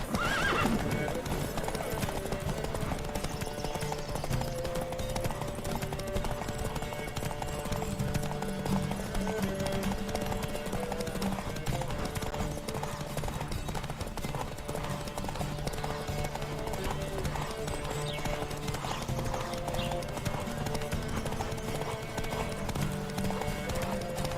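Horse galloping in a race in the Witcher 3 video game, a continuous rapid hoof clatter with occasional whinnies over steady game music and ambience.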